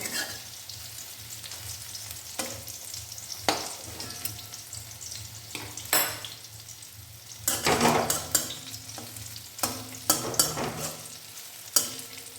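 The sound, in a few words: drumstick flower pakoras frying in oil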